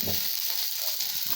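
Steady, loud sizzling of onions frying in hot oil for vermicelli upma, a dense crackling hiss that runs continuously throughout.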